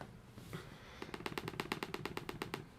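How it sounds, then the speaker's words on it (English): Automatic gunfire in a Unity game prototype: a rapid, evenly spaced burst of about fifteen sharp synthetic shots, loud and close, following a single softer shot. "we set it to automatic fire, we should get 1 shot per second"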